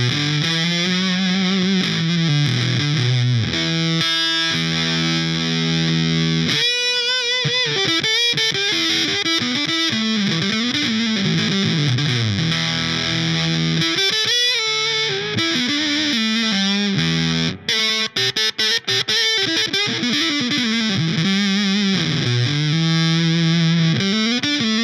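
Electric guitar runs through a chain of effects pedals with every knob at noon and the octave effect off, playing loud distorted, chorus-tinged chords and melodic lines continuously, with a brief choppy break near the end.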